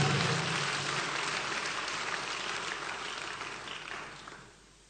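A church congregation at a fasting-day service claps together in a dense, steady burst that fills the room and slowly tapers off toward the end.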